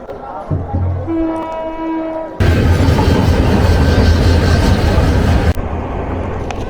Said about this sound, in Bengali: লোকো রিভার্স করে একদম সামনে লাগানোর জন্য নিয়ে গেল।